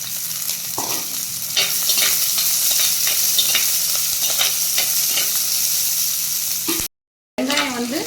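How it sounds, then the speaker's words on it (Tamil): About ten halved small onions sauté in a pan with fried urad dal. A steady close sizzle runs under repeated scraping stirs, breaks off briefly, then the frying returns. "வெங்காயம் வந்து கொஞ்சம் நல்லா வதங்கிடுச்சு"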